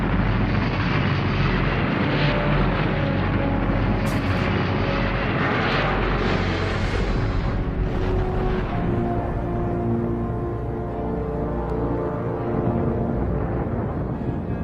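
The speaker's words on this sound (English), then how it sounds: "Vanguard rises a few feet, loses power, and explodes" A Vanguard rocket at launch in December 1957, rising briefly, losing power and exploding: a sustained loud roaring rumble with bursts, heavy and continuous throughout, no voices.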